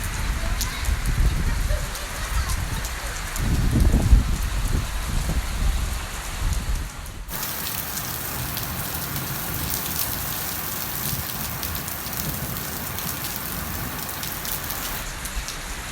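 Rain pours down on an evening in a village near Bani Gala, Islamabad, a continuous close hiss of drops on surfaces, with heavier low rumbling patter early on before settling into an even steady wash.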